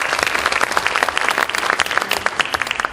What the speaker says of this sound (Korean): 여러분 좀 큰 박수를 부탁드립니다